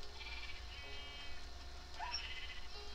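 A sheep bleats in the video game Minecraft, a short synthetic bleat standing out over a low background hum and faint game sounds, with no talking.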